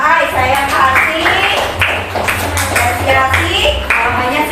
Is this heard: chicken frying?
no